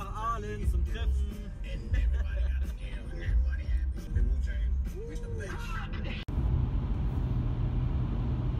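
A car drives along a German road on the way to Aalen, a steady engine and road rumble running throughout under a voice, ending in a sudden quieter stretch of wind and tire noise.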